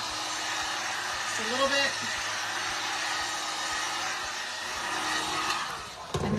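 A heat gun blows a steady, airy hum while warming wood for bending on a tip jar craft project, with a person briefly speaking over the continuous whoosh.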